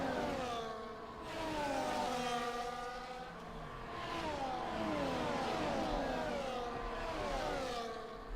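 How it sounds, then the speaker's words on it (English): An Aston Martin safety car in a racing video game pulls away, its engine whining steadily and rising and falling in pitch with each gear change, loud and continuous with no talk. "The Aston Martin safety car starting to pull away, handing the lead of the pack from one green machine to another"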